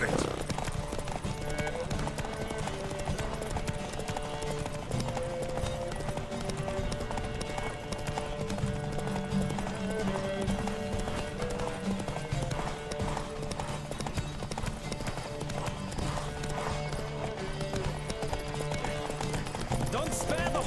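A horse gallops in The Witcher 3: Wild Hunt, its rapid, rhythmic hoofbeats running continuously and close with a possible whinny, beneath game music and voices talking.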